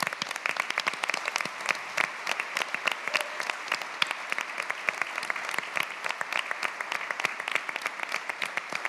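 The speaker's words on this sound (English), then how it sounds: "round of applause" Sustained applause from a conference audience for startups that pitched at a closing plenary, dense steady clapping filling the hall for the full stretch without pause.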